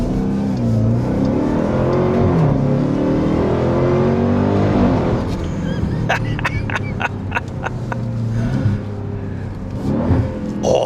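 A 2026 Dodge Durango Hellcat with a supercharged engine roars hard under acceleration, with rising revs and then quick downshifts that bring sharp blips and pops, loud and heard from inside the cabin.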